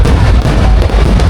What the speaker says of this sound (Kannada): ಅದಕ್ಕೆ ಪಟಾಕಿ ಹೆಂಗೆ ಹೊಡಿದ್ದಾರೆ ನೋಡಿ